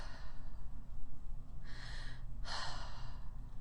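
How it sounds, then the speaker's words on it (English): A normal breath taken during airway and breathing instruction: two soft, close airy breaths in succession over a low background hum, with no talking. "kind of just the bottom half of your ribs, and take a normal breath"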